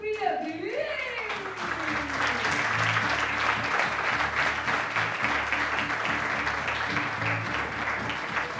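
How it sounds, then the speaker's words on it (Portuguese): Audience at a live stand-up comedy show breaks into dense, sustained applause that holds steady throughout, with a brief voice or whoop rising over the clapping at the start. "Uma salva de palmas para a Sofia Brich!"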